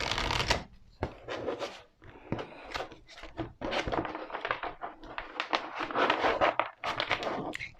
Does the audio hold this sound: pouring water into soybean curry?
no